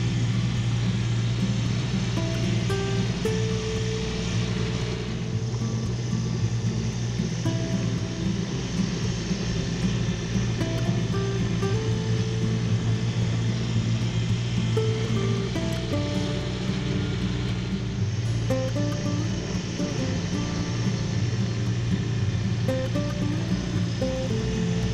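Kubota BX compact tractor with an 18 hp engine working through heavy wet snow, its steady loud engine drone running unbroken and close the whole time, with no voices.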